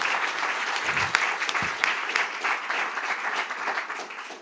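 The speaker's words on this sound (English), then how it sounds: "Please join me and give a big applause to Aldo." An audience at an AI conference gives presenter Aldo sustained applause, dense and even clapping at full strength throughout, with a few sharper individual claps popping out.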